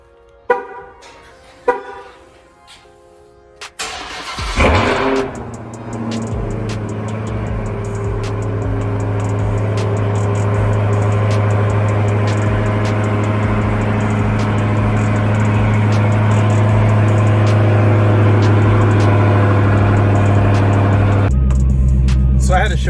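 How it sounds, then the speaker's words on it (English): Dodge Hellcat cold start: a few faint knocks, then the engine cranks and catches with a loud burst, settling into a steady, heavy idle drone that drops sharply near the end. "Let's get this cold start going."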